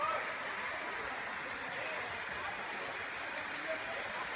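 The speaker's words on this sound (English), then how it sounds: "So that is the main fall. Water is falling." The main fall of Shirley Falls plunges over a cliff, a steady, full roar of falling water that stays constant throughout with no voices.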